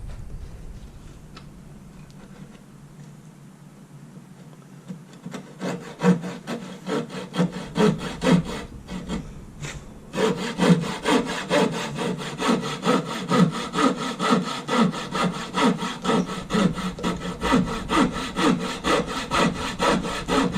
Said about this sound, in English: So just cut my way around like this.